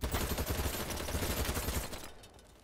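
Dense, rapid gunfire from a large-scale multiplayer warfare video game, overlapping bursts and shots crackling loudly and continuously before tapering off near the end, with no talk over it.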